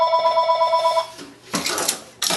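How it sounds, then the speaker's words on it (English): Telephone ringing with a steady warbling electronic trill for about a second, followed by louder rustling handling noises and a sudden burst of noise near the end, indoors in a workshop. "The phone always rings when the video is running."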